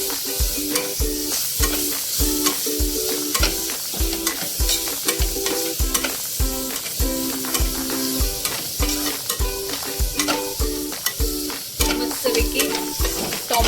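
Tomato and goda masala are stirred into a Konkani-style tender cashew curry in a sizzling pan. Steady, rhythmic spatula strokes scrape loudly and continuously over the frying hiss.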